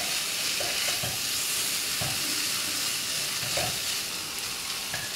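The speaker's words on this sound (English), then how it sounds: "We'll give it a good fry until it's cooked." Condiments and wood ear fungus fry in a wok for Chinese abacus seeds, with a steady loud sizzle and occasional scrapes of stirring. No voices are heard.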